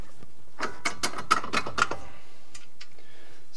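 A nut being spun onto a strut top bolt during an Ironman 4x4 suspension kit install on a Subaru Crosstrek or Forester, heard as a quick run of close metallic ratcheting clicks for about a second and a half, then near silence.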